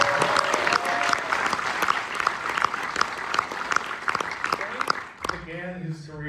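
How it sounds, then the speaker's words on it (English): Audience applause for film editor Frank Urioste at a Total Recall Q&A event, sustained lively clapping from a crowd that fades out as a voice begins speaking at the end. "Let's get a round of applause for him."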